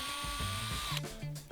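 A power drill bores pilot holes in wood for a pot stand, a close whirring burst that rises and cuts out in short stepped pulses, followed by brief mechanical clicks.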